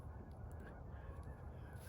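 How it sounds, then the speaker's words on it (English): Geese honk in a noisy flock somewhere off in the distance, their calls steady and overlapping against a constant low rumble of wind or outdoor background. "Geese are going crazy."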